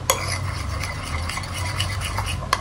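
Crepioca batter mixed in a bowl, continuous close scraping and swishing of a utensil with a couple of sharper clinks against the bowl, steady and moderately loud, no voices.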